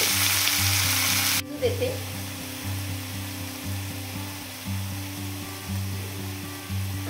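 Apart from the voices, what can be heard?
onion and vegetables frying in a pan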